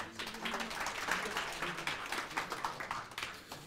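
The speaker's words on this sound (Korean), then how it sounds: "네, 큰 박수로 맞아주시기 바랍니다." Audience applause welcoming a presenter at a blockchain meetup, fairly faint and uneven clapping from a modest crowd, continuing for a few seconds.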